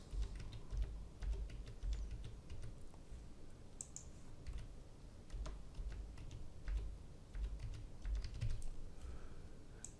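Quiet computer keyboard typing as dates are entered into a spreadsheet, with soft, close key taps in short irregular bursts throughout.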